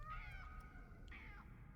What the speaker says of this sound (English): That's just a cat in a jar.